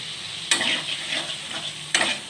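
Chicken mince sautéing in a pan, a continuous sizzle broken by two sharp scraping stirs of a spatula against the pan, close and fairly loud.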